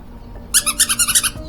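A squeaky prank tool lets out a quick run of about eight high, chirpy squeaks in a fast, uneven rhythm, close and fairly loud over a quiet room.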